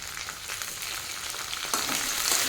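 Onion, garlic and peeled prawns fry in hot oil with a continuous, crackling sizzle that grows louder and brighter partway through, close and alone.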